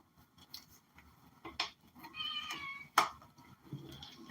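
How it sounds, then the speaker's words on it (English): A cat meows several times in short, varied calls, with a sharper cry near the middle, over a quiet indoor background with light clinks and rustles; no one speaks. "Baby cat."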